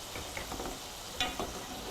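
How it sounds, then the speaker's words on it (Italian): Soft, steady sizzle of panzerotti frying in oil at 180 degrees, with a couple of faint clinks partway through and no voices. "Quindi scaldiamo l'olio a 180 gradi e immergiamo i panzerotti pochi per volta"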